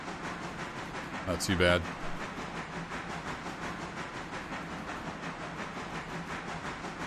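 A 1,500-ton freight train rolling slowly in the game Railroader, heard as a steady low rumble and faint rhythmic clatter under brief talk, with a short hissing burst early on.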